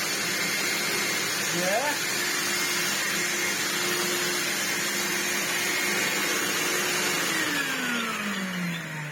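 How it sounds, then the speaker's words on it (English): A Vax New Wave HF1400 vacuum cleaner runs its brush roll with a newly replaced motor, giving a steady, loud motor drone throughout that drops in pitch as it spins down near the end, with a brief voice over it. "Let us check that the brush roll works."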